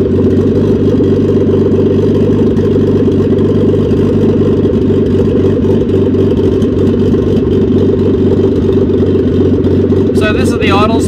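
An RB20DET engine in a Nissan Datsun Bluebird 910 idles loudly and close, a dense, steady rumble with fast rhythmic pulsing throughout; a voice briefly starts up near the end.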